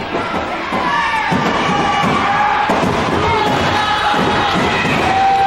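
Fans at a Portland professional wrestling show cheer and shout at wrestler Scotty Mack, a busy crowd roar of mixed voices with a few sharp thuds, moderately loud and steady throughout.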